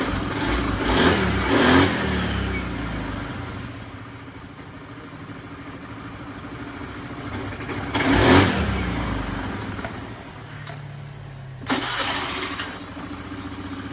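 A Honda Beat FI motor scooter engine cranks and catches after an electrical repair, then revs up in bursts, dropping back to a rough idle between throttle blips, close by.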